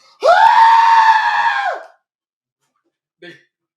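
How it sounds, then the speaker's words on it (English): A person lets out a single loud, sustained scream lasting nearly two seconds, close and harsh, then silence broken by a brief faint sound. "I don't like that scream."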